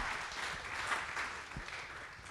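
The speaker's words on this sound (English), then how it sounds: "So why don't you give her a round of applause?" An audience at a principals' conference applauds the new district gift planner, a moderate, fairly steady clapping that swells slightly and then eases toward the end.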